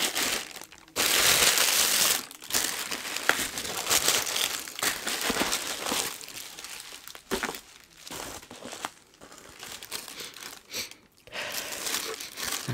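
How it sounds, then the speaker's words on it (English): Plastic wrapping crinkling and crackling close up as an eyeshadow palette is unboxed, with continuous rustling bursts and brief pauses throughout. "Okay, so we have plastic wrapping."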